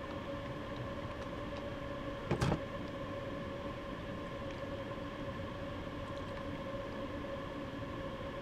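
Steady drone of a Railpool class 187 electric locomotive running light on the Rhine-Ruhr main line in Train Sim World, with constant cab hum and tonal whine, plus a brief clunk or rattle partway through.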